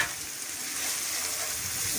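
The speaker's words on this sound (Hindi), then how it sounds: "इसको 1-2 मिनट के लिए अच्छे से भुनाई करें।" Achari aloo baingan (potato and eggplant with pickle spices) roasting and being stirred in a pan, a steady close sizzle with faint scraping throughout.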